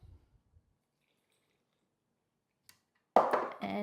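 Water poured into burger bun dough in a mixing bowl, with a couple of faint drips first and then a sudden close, splashy gush at the end.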